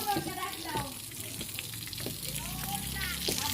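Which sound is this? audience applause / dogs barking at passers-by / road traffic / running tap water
running tap water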